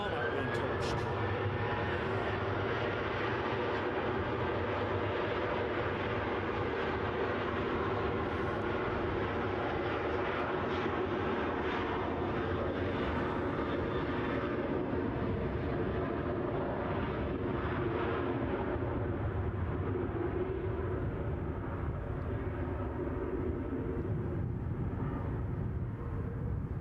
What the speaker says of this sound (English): Mark 176 says the A400M is coming back for more.